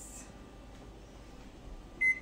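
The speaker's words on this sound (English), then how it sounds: "We put a timer, 30 minutes on." A kitchen oven heated to 177 Celsius gives a single short electronic beep near the end as a 30-minute timer is set for a homemade cheesecake, following a quiet stretch with faint background hum.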